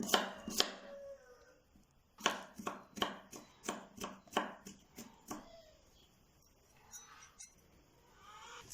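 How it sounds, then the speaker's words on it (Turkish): An onion and garlic cloves finely chopped with a knife on a cutting board, a quick run of about a dozen crisp, evenly spaced close thuds that then stop, leaving faint kitchen clatter. "Üçlü sarımsağım var. Onları da ince ince doğruyorum."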